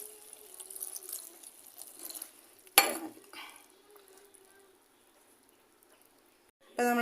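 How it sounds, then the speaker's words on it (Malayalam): Water is poured into a pressure cooker holding taro stems and green chillies, a brief splashing gush followed by faint drips, with a quieter rush of pouring returning at the end. "നമുക്ക് കുറച്ച് വെള്ളം ഒഴിച്ച് കൊടുക്കാം."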